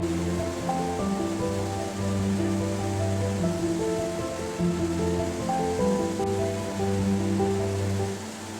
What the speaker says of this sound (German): Hier donnert Neuseelands längster Fluss, der Waikato River, durch eine enge Schlucht